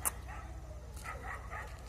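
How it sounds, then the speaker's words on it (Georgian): Barking from a wild dog during a seaside outing: a few short yips and barks rise over steady low outdoor rumble, moderately close but not loud, with no talk over them. "ეს არის ველური ძაღლი."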